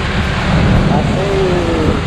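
Rain falls during a bicycle ride around the Sunda Kelapa area, heard as a loud, constant broadband wash with a faint tonal whine passing through.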